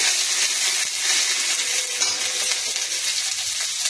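Ginger paste hitting darkened cumin in hot oil in a pan while cooking a Bengali dish, giving a loud, steady frying sizzle with light stirring scrapes throughout, no voices.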